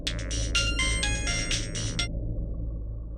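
A phone call rings out in bursts over a steady low rumble, a repeating electronic ringback tone pulsing for about two seconds before it cuts off into quiet hum.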